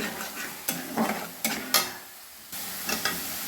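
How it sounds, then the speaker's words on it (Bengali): Spice paste fries and sizzles in a pan for a hilsa fish head and kochu shak dish while a utensil stirs and scrapes it in several sharp, irregular strokes, close and moderately quiet. "আবারও মশলাটা কষিয়ে নেব"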